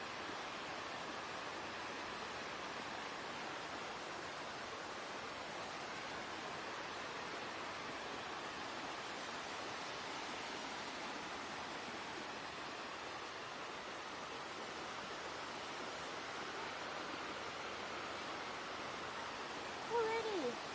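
Steady broadband rush of a waterfall near Rocky Mountain House, a constant dense roar that holds evenly throughout with no breaks and no voices.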